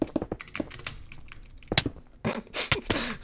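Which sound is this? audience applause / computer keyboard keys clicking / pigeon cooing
computer keyboard keys clicking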